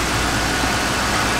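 A Lincoln Town Car engine runs with a steady, even hum after a 200 amp alternator upgrade, loud and close, with no sputtering or changes in pace and no voices.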